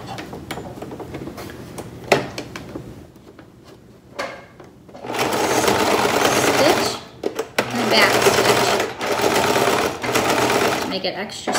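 Domestic sewing machine stitching folded fabric for a handmade tie-on face mask, running in several sustained loud bursts of rapid whirring with short pauses between, plus faint handling clicks and a brief voice early on.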